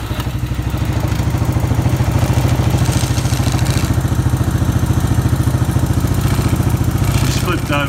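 A 1996 Suzuki Quad Runner ATV idles in neutral, its engine a steady, loud, close chugging putter with an even mechanical clatter running unbroken throughout.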